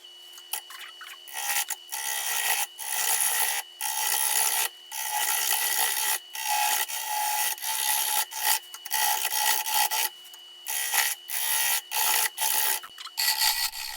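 A pointed carbide scraper, the Axe by Carter, cuts a super dry, cracked cherry burl spinning on a wood lathe, giving close, rasping scrapes in repeated bursts with brief pauses between passes.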